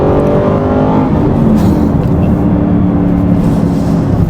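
A loud sports car engine roaring as it accelerates in first gear, the pitch climbing steadily, heard from close by with a constant rumble.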